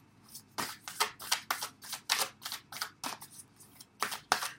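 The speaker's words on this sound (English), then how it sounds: "So let's pull an oracle card for you." Oracle cards are shuffled by hand in a quick series of crisp, riffling bursts, about a dozen close, distinct shuffles spread over a few seconds in a quiet room.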